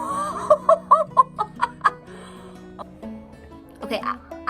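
A baby bird on a farm gives a series of about eight short, bright, evenly spaced chirps up close, followed by quieter scattered peeps and a few more calls at the end over a low background hum.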